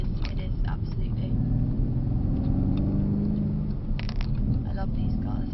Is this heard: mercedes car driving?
yes